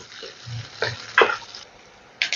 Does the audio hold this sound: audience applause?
no